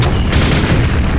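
Constant loud gunfire and booming explosions from the video game Quake, a dense, unbroken barrage with no pauses and no talking.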